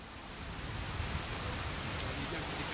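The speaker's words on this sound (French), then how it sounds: "tellement le son de la pluie est fort" Heavy, steady rain in the video game Skyrim pours continuously, a dense hiss with no pauses and no voices.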